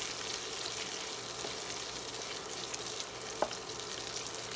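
Asparagus and garlic sizzle steadily in a hot pan while being tossed, a constant close frying hiss with one short sharp knock, no voices.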